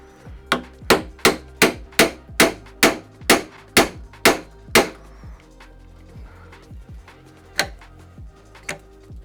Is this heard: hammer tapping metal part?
yes